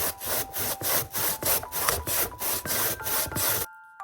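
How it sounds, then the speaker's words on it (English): Daikon radish rubbed against a grater for Japanese home cooking, about a dozen even back-and-forth rasping strokes in a quick steady rhythm, close and clear, ending abruptly in silence. "Next, grate the radish."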